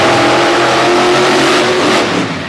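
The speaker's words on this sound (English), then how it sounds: "Good launches for both trucks." Monster trucks roar off the start line together at a Brookville, Pennsylvania event, engines revving hard in a loud, sustained bellow that stays close and steady, with no voices over it.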